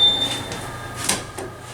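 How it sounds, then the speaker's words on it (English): An old OTIS elevator door operator on a hydraulic scenic elevator slides the doors, giving a thin whine with a soft whir and a couple of short knocks and rattles at close range. "Old OTIS door operator."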